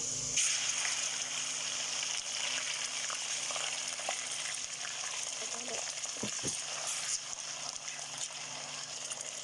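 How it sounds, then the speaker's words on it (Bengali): Onions with cardamom and cinnamon frying in hot oil in a home kitchen, a steady close sizzle running throughout with a few faint clinks and stirring noises, no talking. "তেল দিলাম, পেঁয়াজ দিলাম, একটু ভেজে নেই।"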